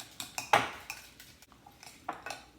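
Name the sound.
whisking eggs in a bowl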